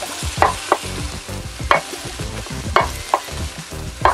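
Vegetables for Korean japchae sauté in a hot pan, with a steady low sizzle broken by several sharp scraping stirs of the spatula, close and fairly loud, no voices.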